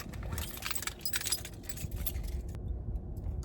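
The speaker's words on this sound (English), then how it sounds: "Oh, my keys are on my hip." Keys jangling on a hip, a near and continuous metallic clinking and rattling that fades toward the end over a low background rumble.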